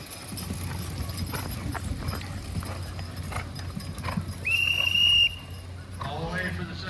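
Draft horse teams at an old-fashioned county fair horse pull, with faint hoof clops and harness jingle over crowd murmur and open-air ambience, then a sharp whistle blast and a brief shout.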